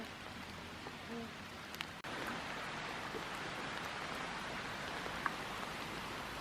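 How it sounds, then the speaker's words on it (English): Hail falling outdoors on Japan's Nakasendo trail, a soft, dense patter spread evenly throughout, with a brief knock near the two-second mark and a few faint isolated ticks. "We now have hail."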